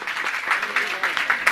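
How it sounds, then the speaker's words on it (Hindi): Audience at a Hindu-language religious gathering gives a brief burst of applause, a short, uneven patter of clapping lasting under two seconds, moderately close. "एक बार जोरदार तालियां।"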